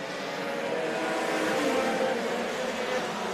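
Sport compact race cars accelerate together at a race restart on a short track, a dense roaring wall of engines rising and holding steady throughout, loud and continuous.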